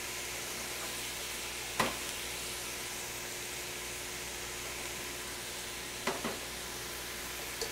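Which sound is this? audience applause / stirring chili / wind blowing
stirring chili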